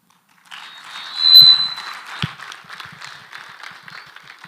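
Conference audience applause in a hall, a burst of clapping from many hands that swells quickly, then thins into a softer patter of scattered claps.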